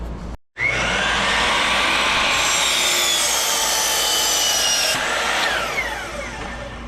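A saw rips through wood close up in a steady, loud rasping run after a brief pause, the cut continuing for several seconds on an outdoor compound.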